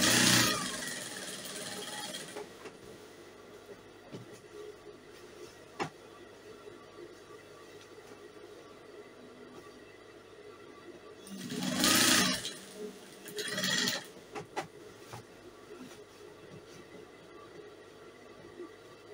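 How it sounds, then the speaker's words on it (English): Sewing machine stitching crinoline, a faint steady whirring run with a couple of louder surges near the end, and a person talking quietly at moments. "And as you stitch, please don't pull it. Just give it a gentle stitch"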